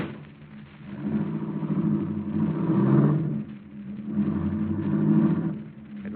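A car engine rumbles and revs as the car pulls away in an old-time 1940s radio drama, swelling and fading in waves over several seconds with no voices.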